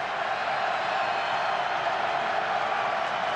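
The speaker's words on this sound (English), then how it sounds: "and the crowd went berserk" A stadium crowd at Papa John's Stadium roars in a steady, dense wall of cheering during a Louisville Cardinals versus South Florida football game, loud and unbroken throughout.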